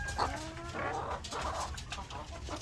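Several chickens cluck and murmur nearby, soft repeated calls over a quiet farm background, no talking.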